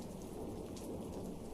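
Steady, dense rain with a low rumble of thunder, a constant close wash of sound with no breaks and no voices.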